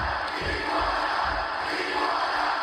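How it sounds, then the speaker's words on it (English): A lucha libre wrestling arena crowd chants 'Iguana' in a steady rhythmic pulse, a broad roar of many voices with pounding repeated beats filling the hall. "And you can hear the crowd here chanting Iguana."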